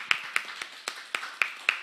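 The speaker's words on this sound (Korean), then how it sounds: "박수 한번" Lecture audience clapping at a Seoul business restart talk: a handful of sharp, fairly evenly spaced claps, close and distinct, with quiet room tone between them.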